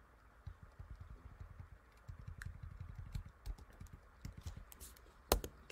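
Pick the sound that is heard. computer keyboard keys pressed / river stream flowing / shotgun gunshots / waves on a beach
computer keyboard keys pressed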